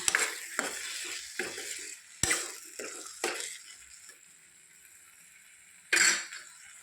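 A spoon scrapes and stirs through a thick drumstick curry in a pan, several uneven strokes with short pauses, close by, ending in one louder scrape.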